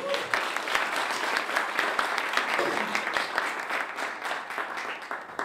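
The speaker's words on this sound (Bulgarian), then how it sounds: "Моля с много силни аплодисменти да посрещаме вас като хора." Steady, dense applause from a seminar audience, many hands clapping continuously at an even loudness throughout.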